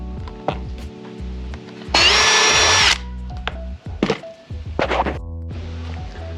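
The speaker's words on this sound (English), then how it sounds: "Go ahead and drill that through just like that." A power drill with a 12mm bit whirs in a short, loud burst through car trim during a Honda Type R console lighting install, followed by several quick thunks and brief tool noises close by.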